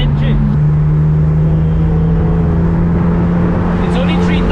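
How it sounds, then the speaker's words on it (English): A BMW M3 E46 convertible engine hums steadily at a constant low pitch around 3,500 RPM, close and loud, with wind rushing around it. "Oh my god, the sound of that engine."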